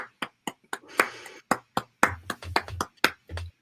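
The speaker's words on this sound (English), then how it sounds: "Give Mr. P a round of applause, everybody." Small group clapping for a special guest at an informal writing-sprint gathering, a few close, sharp, uneven claps in short bursts with gaps between them.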